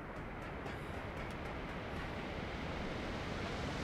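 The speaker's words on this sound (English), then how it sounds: "Whoa, sound of that waterfall. It's pretty big." A big waterfall in the video game ARK Genesis 2 gives a steady, dense roar of rushing water that holds even and loud for the whole stretch, with no voices over it.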